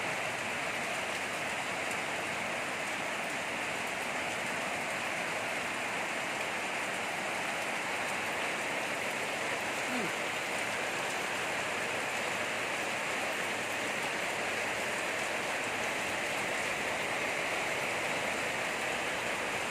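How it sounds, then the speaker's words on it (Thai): Heavy rain pours steadily at a market, a dense, unbroken hiss that stays loud and even throughout with no voices standing out. "ฝนตกมา"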